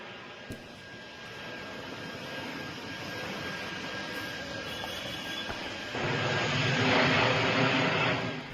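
A Chinese AEW early-warning aircraft flies during a test flight, its broad jet-engine roar holding steady and swelling louder toward the end, with no speech.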